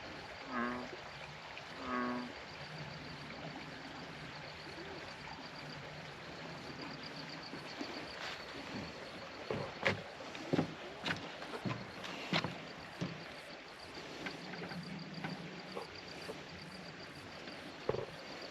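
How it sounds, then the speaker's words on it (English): Steady water flowing and gurgling outdoors from a spring at Ash Meadows, a soft continuous wash with a few splashy bursts, no voices. "You hear the water running out of the spring."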